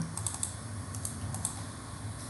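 Keys tapped on a computer keyboard in a quiet room, a short run of soft close clicks ending with a press of the Enter key, faint and with no voices.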